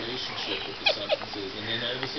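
A house cat lets out a couple of short meows, one after the other, over a steady muffled background.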